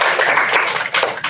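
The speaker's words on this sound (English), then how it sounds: "Let's give them one more round of applause." An audience gives a round of applause for student groups after their presentations at a wellness session: dense, steady clapping from many hands, close and fairly loud, for a brief moment.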